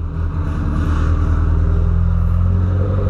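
An abandoned VW Santana car running after being started, its engine giving a loud, steady low rumble close by with a faint rise in revs, no talk over it.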